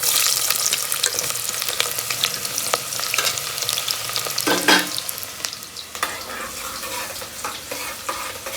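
Onions fry in hot oil for a mutton curry, giving a continuous bright sizzle with crackling pops and a brief clatter of stirring partway through, close and with no talk.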